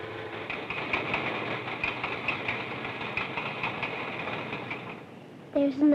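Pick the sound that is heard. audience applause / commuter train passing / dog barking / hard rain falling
commuter train passing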